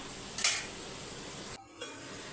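A single brief metallic clink and scrape of a utensil against a pan while beetroot stir-fry (poriyal) cooks for a lunch box, followed by quiet kitchen background.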